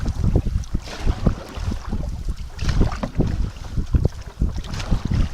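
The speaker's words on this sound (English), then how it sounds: "We're paddling straight into the wind now, and we're flying right along." Canoe paddled straight into the wind in Quetico Provincial Park, with steady wind buffeting the microphone and rhythmic water splashes from the paddle strokes, fairly close and without talk.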